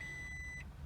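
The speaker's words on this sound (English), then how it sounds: "Oh, there is a beep." A single steady electronic beep from a 2007 Toyota Prius as it powers on, held for just over half a second then cut off, clear against a low background hum.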